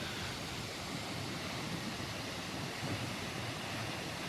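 A river near Carlisle in the countryside rushes past in a steady, broad wash of flowing water, even and unbroken with no voices.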